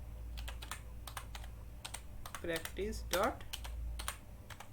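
Computer keyboard typing a javac compile command, a run of quick separate key clicks close to the mic, with someone speaking briefly partway through.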